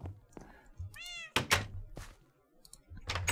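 A cat meows in the Minecraft video game, a couple of short rising-falling game meows between dull thunks and knocks, with a voice briefly talking.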